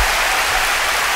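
A crowd clapping in a brief burst of dense, steady applause, even and fairly loud throughout.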